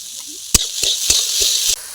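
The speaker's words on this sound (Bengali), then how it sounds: "পেঁয়াজ আর পাঁচফোড়নের সঙ্গে আলু আর ডুমুরটাকে ভালো করে কষিয়ে নিতে হবে" Potatoes and figs stir-fry in a pan with onion and panch phoron five-spice, giving a brief bright sizzle punctuated by a few sharp spatula scrapes and knocks.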